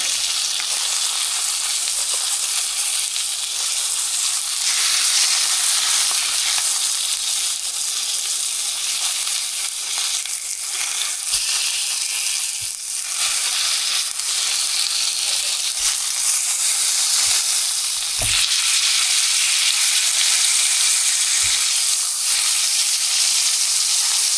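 Chicken fries in a pan with garlic butter, giving a loud continuous hiss and sizzle, with occasional pops and a few soft knocks over nearly half a minute, and no talking.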